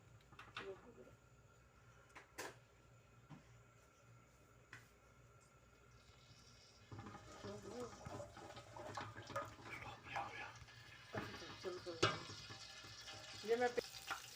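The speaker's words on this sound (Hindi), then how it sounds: "मैंने फिर अब प्याज डाल दी जो अब इसको मैं अच्छी तरह फ्राई करूँगी" Onions sizzling and being stirred in hot ghee for chicken pulao, a soft frying crackle that grows busier partway through, with occasional utensil clatter and someone talking over it.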